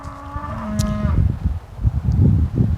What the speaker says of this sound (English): that cow is really going to town